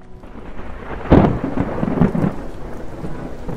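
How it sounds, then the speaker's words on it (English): A violent thunderstorm sound effect rumbles loud and close, with a sharp thunder crack followed by rolling booms over steady heavy rain. "Outside, a violent storm erupted, battering the coast."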